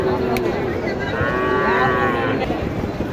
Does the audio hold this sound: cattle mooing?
yes